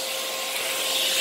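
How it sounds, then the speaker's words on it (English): Miele U1 upright vacuum cleaner running in upright mode with the tube extended, a steady close airy roar with a faint whine that swells slightly louder toward the end, with no talking. "See all the massive airflow that the vacuum has."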